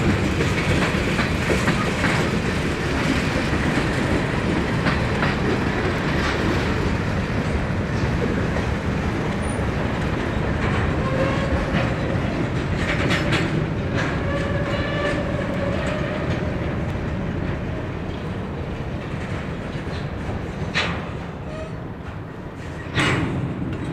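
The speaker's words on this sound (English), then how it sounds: "The incoming train is most likely the LL1, which works industries on the Laurel line" An incoming freight train, the LL1 industrial local on the Laurel line in northeast Pennsylvania, rumbles past at close range with steady wheel clatter and rolling noise, and no voices are heard.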